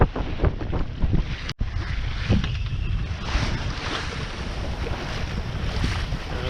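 Sailboat under way at sea on a sunny day in a bumpy swell, with steady wind rush and water washing against the hull throughout, one brief dropout midway, no talk.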